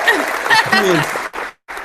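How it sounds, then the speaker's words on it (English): Studio applause on a talk radio show, breaking out loudly over voices and then cutting off briefly before resuming. "We deserve applause."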